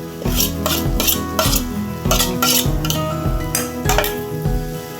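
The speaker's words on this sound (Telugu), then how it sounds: "ఇలా కలిపేస్తాం" A spatula scrapes and stirs mashed boiled potato into fried vegetables in a pan for a veg sandwich filling, producing close, rhythmic rasping strokes roughly every half second with a light sizzle underneath.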